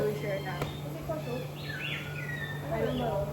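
Birds chirp and call in the Australian enclosure of a bird park, with several varied, moderately distant calls over steady background hum and people talking nearby.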